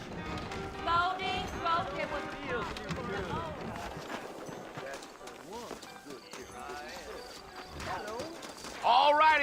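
Horses trot with a steady clip-clop of hooves in the Red Dead Redemption western video game, sounding close and running under continuous talking voices and game music.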